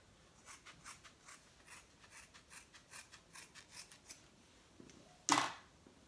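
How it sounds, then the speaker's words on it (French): Scissors snip through strands of synthetic hair in a quick, even series of soft, crisp cuts, followed by one louder clack near the end. "Je prends des mèches, je coupe en deux et demi."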